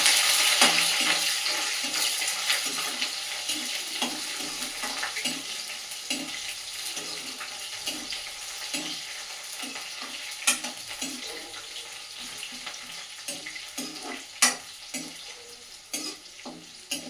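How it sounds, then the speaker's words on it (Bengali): Chopped onion fries in oil with bay leaf and cumin, a loud, continuous sizzle that slowly eases, with a steady rhythm of spoon stirs against the pot throughout. "এই পেঁয়াজটা দিয়ে দিব।"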